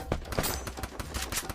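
Rapid bursts of gunfire from a PUBG-style shooter game crackle in a quick rhythmic volley, fairly faint and short.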